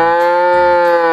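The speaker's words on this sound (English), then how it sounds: "When the cow makes sound," A cow moos in one long, loud, sustained low call, close and clear with no other sounds.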